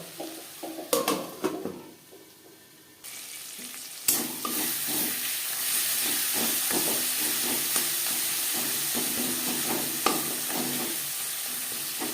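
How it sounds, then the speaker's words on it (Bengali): Spices with turmeric powder are sautéed on a low flame for a cabbage curry, giving a steady soft sizzle under repeated scraping stirs. A few louder clinks of utensil against the pan come at the start. "হলুদের গুঁড়ো লো ফ্লেমে তিন চার মিনিট মশলা কষিয়ে নেব"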